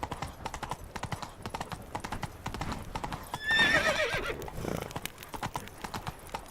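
Hooves of a galloping horse in The Witcher 3 game, a rapid, steady clip-clop close by throughout, with a loud whinny and snorting breaking in midway.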